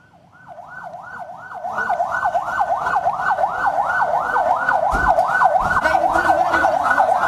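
An ambulance siren carries poisoned students in Cipongkor, West Bandung, wailing in a fast, regular rising-and-falling cycle that swells from faint to loud and close, with a few dull thumps near the end.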